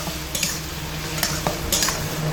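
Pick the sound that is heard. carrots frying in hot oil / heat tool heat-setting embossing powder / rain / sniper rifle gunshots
carrots frying in hot oil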